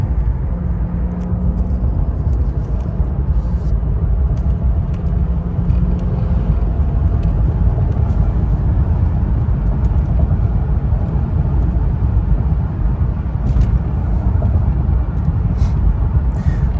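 A 2015 BMW 640i xDrive Gran Coupe with its 3-liter straight-six driving on the road: a steady, loud low rumble of engine and road noise from inside the cabin, unbroken throughout.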